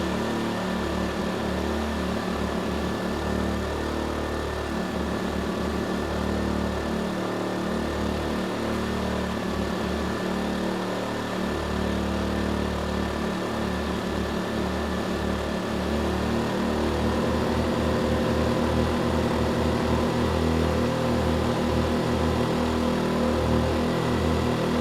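ERAYAK 4500W dual-fuel inverter generator running under a 4,500-watt load, a steady, loud engine drone with a low pulsing hum that shifts pitch slightly partway through, no voices.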